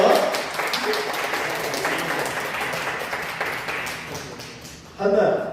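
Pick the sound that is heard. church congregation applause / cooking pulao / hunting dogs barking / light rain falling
church congregation applause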